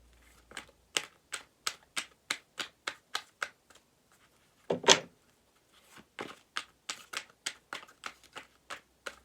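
Tarot cards being shuffled by hand in a steady series of short crisp riffles, close and fairly quiet, with one louder burst of card noise midway before the even rhythm resumes; no talking.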